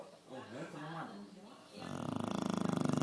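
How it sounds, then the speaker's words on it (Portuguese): A dog snoring, heard first under a voice and then rising into loud, regular rasping pulses close to the microphone. "Para de roncar"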